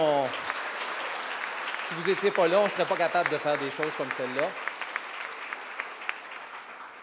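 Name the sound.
applause for city councillors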